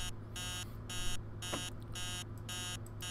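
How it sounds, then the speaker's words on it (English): Repeated electronic alarm clock ringing in the horror video game Emily Wants to Play Too, an insistent buzzing beep in steady on-off bursts of about half a second, loud and continuous over a low hum. "That alarm is pretty annoying."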